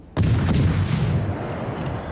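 Naval guns firing in World of Warships from a French destroyer, the Aigle: one deep, loud boom that rolls out into a long, fading rumble.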